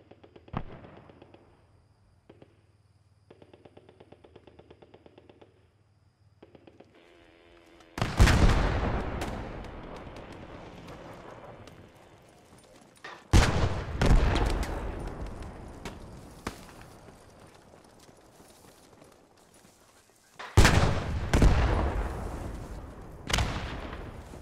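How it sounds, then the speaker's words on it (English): Loud gunfire and explosive bursts in the WW2 shooter Post Scriptum, set around a church: quiet low rumble at first, then several sharp, booming volleys that each ring out and decay slowly, the last pair close together near the end. "I was hearing gunfire"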